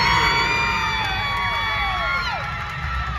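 Crowd at a state spirit-squad cheer competition cheering for the St. Joseph junior high non-tumbling champions, a loud sustained roar with whoops and high shouts that fades slightly toward the end.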